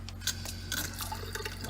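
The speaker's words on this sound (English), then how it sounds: "Faucet, which works" Water runs from a faucet in the interior of a 2000 Newmar Dutch Star motorhome, a short close trickle with small splashes over a steady low hum.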